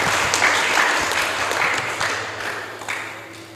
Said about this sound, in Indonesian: Jadi tepuk tangan untuk ibu kita semua yang ada di rumah.